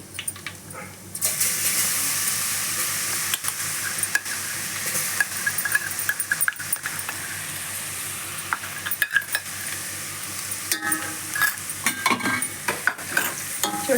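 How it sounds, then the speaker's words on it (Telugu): A steady sizzle of garlic frying slowly in a hot pan for gongura chutney, with occasional clicks and scrapes of stirring throughout. "చూడండి దోరగా వేగుతుంది స్లోగా"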